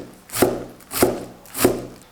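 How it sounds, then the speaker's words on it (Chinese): A knife chops a large handful of drained garlic chives finely on a board, three evenly spaced sharp thuds, close and alone. "一大把控干水分的韭菜，切得碎一些。"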